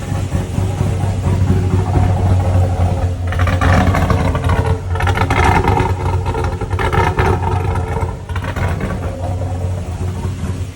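A Trailblazer SS with a 408 LS stroker, a Magnuson 1900 supercharger and a blower cam runs close and loud. It holds a lumpy, choppy idle with short blips of revving and a steady supercharger whine, and no one speaks.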